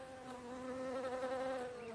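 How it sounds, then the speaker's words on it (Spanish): Bees buzzing steadily and close, a continuous droning hum with strong harmonics that holds at an even level for about two seconds, with no voices. "Ahora, ya había abejas."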